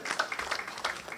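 Scattered clapping breaks out from the audience at a Constitution Day lecture in Ghana, a brief patter of hand claps lasting just over a second.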